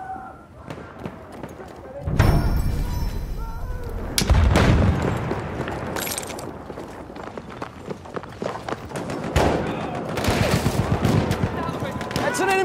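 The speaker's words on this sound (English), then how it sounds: "That's an enemy machine gun!" Battlefield 1 battle on Amiens with enemy machine gun fire in rapid bursts, heavy booms and running footsteps, loud and chaotic, with voices shouting over the din at times.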